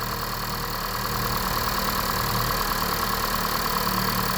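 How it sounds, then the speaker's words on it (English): A 2016 Honda Fit's engine idles steadily, a constant close mechanical hum with an even pulsing rhythm and no voices. "Okay, with the motor running."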